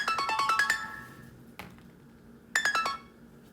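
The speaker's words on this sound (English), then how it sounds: "Alarm in my phone, sorry." Two bursts of a bright, rapid electronic phone alarm tone, each a quick cascade of beeps, separated by a short pause, fairly close and clear.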